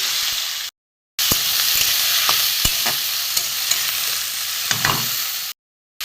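Cut ash gourd drops into hot oil seasoned with panch phoron and fries with a loud, steady sizzle, broken by sharp clacks of a spatula stirring against the pan and brief silent gaps.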